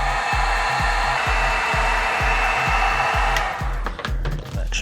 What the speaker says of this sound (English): hope that the air from the heat gun does not blow them around